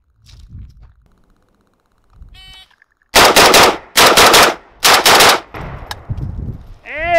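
A ZPAP M70 AK-pattern rifle fires during a nine-shot drill in three loud, rapid bursts of close gunshots, each about half a second long, with quieter handling noise and a faint clatter between.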